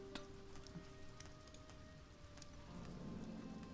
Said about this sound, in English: if this rain could stop, that'd be great